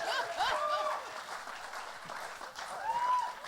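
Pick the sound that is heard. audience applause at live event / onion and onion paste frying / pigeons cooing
audience applause at live event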